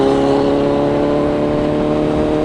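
A CFMOTO 750SRS motorcycle engine revs in a rev match up close, a loud sustained mechanical drone holding steady over a couple of seconds, no speech.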